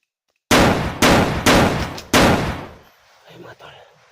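Gunfire in a video game: four loud, close shots in a spaced rhythm, each with a sharp crack and a short decaying tail, followed by faint background sounds.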